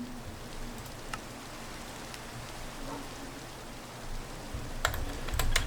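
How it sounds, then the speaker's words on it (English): Steady soft rain patter from the video game Minecraft fills the background, with a few sharp clicks and a louder patch of rumble near the end. "Also, it's raining now"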